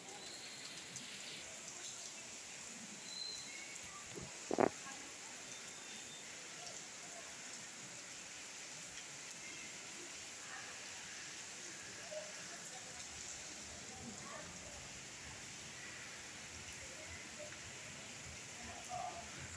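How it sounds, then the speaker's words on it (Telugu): Rain falls steadily outdoors in cool, cloudy weather, a faint, even wash of hiss that runs throughout, with one sharp knock close by. "వర్షం అయితే బాగానే వస్తుంది."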